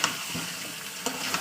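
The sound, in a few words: hot water added to seared meat, sizzling in pan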